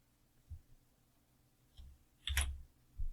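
Sparse, faint clicks of a computer keyboard as keys are pressed while entering an equation in Mathcad, a few isolated taps spread across a quiet moment.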